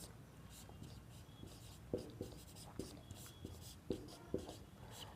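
A pen scratches and taps across paper while a maths problem is written out, giving soft, irregular strokes and a few sharper ticks, quiet and close.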